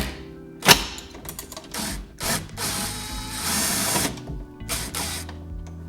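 Wrench turning bolts on a 2009 Honda Civic driver's side window regulator: irregular metallic ratcheting clicks and scraping bursts, close and fairly loud, with a sharp clank near the start.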